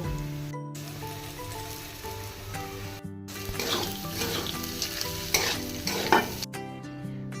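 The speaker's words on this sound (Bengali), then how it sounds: "মিডিয়াম আঁচে সবজিটা ভেজে নিব মটরশুঁটিগুলো দিয়ে দিব" Vegetables and peas frying over medium heat for a spicy fried puli filling, giving a steady close sizzle broken by scraping stirs, with no talk.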